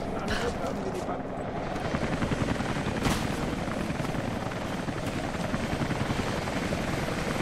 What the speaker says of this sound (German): Mit einem Hubschrauber